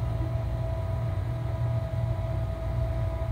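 An Arctic Air Ultra evaporative air cooler runs on its lowest setting, giving a steady, soft fan whir with a faint motor hum, alone and unchanging.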